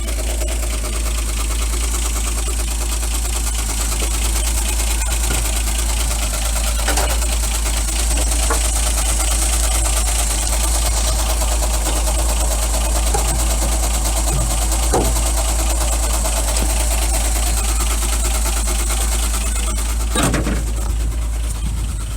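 A Ford Granada 3.0 GL automatic, restarted after two months standing, runs at a steady, loud idle throughout, with a continuous rumbling drone and a few faint clicks and knocks over it.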